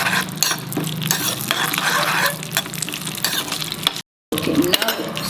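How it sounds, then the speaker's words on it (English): Almonds and pistachios frying in a pan for payasam while being stirred, a loud continuous sizzle with scraping spoon strokes and a brief dropout near the end. "As this gets fried, you put in the almonds."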